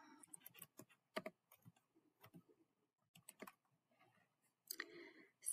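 Irregular bursts of fast keystrokes on a computer keyboard with short pauses between words, close and fairly quiet, with no voices.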